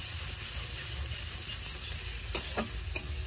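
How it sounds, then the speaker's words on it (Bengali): Spices frying in a pan, a close continuous sizzle with light crackling and a few clinks of a spoon stirring near the end, moderately quiet, with no voices. "আমার মশলাটা দেখো কেমন ভাজা ভাজা করেছি"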